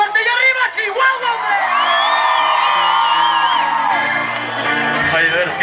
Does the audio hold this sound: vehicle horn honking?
no